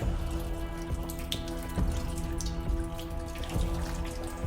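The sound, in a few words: water dripping into a small pool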